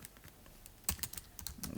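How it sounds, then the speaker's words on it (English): Keystrokes of a Ctrl+Z undo shortcut typed on a computer keyboard during work in Microsoft Excel, a quick run of close, sharp clicks with a louder cluster near the middle and steady light tapping after. "I'm typing here control plus Z"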